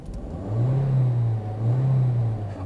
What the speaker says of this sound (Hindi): गाड़ी को मैंने स्टार्ट किया हुआ है